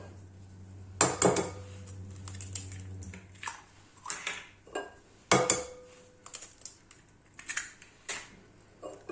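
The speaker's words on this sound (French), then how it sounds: "j'ai pris un saladier et je vais casser les œufs" Eggs cracked into a mixing bowl: a few sharp knocks and clinks against the rim, spaced apart, with softer taps and handling noises between them, close and fairly quiet.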